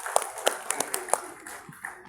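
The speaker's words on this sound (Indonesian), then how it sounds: "Nah, berikan aplaus untuk" A small audience at a talk claps in a brief, sparse burst of separate hand claps, a few sharp hits over about two seconds under faint room sound.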